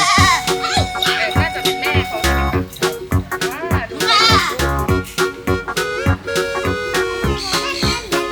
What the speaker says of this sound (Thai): นี่แพะแพะนะครั